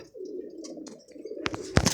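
Pigeons in a loft coo in a steady low murmur, joined near the end by sharp clicks and brief flutters from close by.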